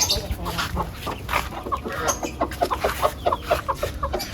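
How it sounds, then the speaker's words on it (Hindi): Chickens cluck and peck while feeding, giving a busy run of short, close clucks and scratchy pecking sounds throughout. "देखो मुर्गियाँ खा रही हैं।"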